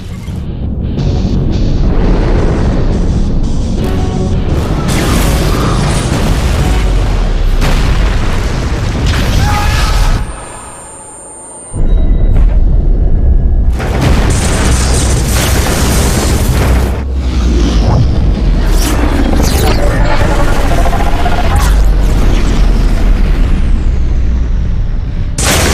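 Heavy sci-fi starship weapons fire and booming explosions from a movie battle, loud and continuous with repeated blasts and rumbles, a brief drop near the middle before the barrage resumes, with faint voices mixed in.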